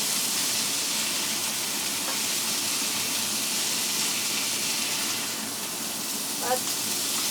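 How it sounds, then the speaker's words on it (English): Asparagus frying in a pan, a steady broad sizzle and hiss holding throughout at close range, with a brief clink near the end and a person talking faintly over it. "let it fry a little bit with the asparagus"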